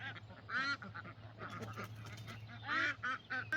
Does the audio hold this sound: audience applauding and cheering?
no